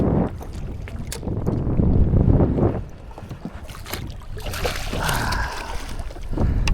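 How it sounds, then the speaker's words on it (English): Wind buffets the microphone in heavy rumbling gusts on a boat while walleye fishing on Green Bay, with water slapping and boat noises mixed in. "Windy, tough conditions."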